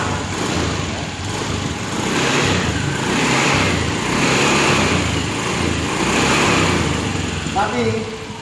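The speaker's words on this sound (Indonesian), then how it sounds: "Motor ini normal, bisa kita nyalakan." A normal-running Honda motorcycle engine is started and idles steadily nearby, a continuous mid-loud hum with gentle swells in level throughout.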